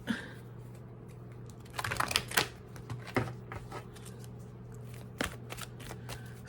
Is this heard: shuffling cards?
yes